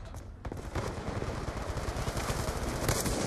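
Gunfire in a multiplayer shooter video game, with rapid automatic bursts of shots crackling densely and continuously over a busy, noisy game mix.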